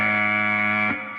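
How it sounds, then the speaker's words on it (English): A harsh, distorted electronic buzzer blares as a single steady tone rich in harmonics for about a second, then cuts off abruptly, leaving a faint tail. "that's more of a nuclear buzzer, but you get the idea"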